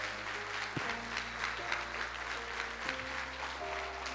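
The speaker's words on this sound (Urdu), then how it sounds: "آئیے یسوع مسیح کے لیے بھرپور تالیاں بجائیں۔" A church congregation applauds steadily, with dense sustained clapping running throughout and faint voices and a low musical drone underneath.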